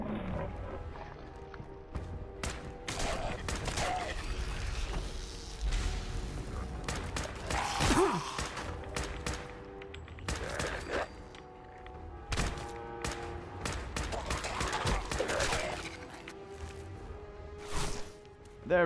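Gunfire aimed at a robot in a video game, a loud busy stretch of repeated sharp bursts and impacts over a dense bed of game sound, with a voice talking at times.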